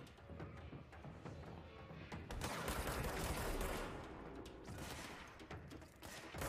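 Rapid bursts of gunfire from a shooter video game played on Stadia, dense and loud throughout, with heavier volleys in the middle stretch.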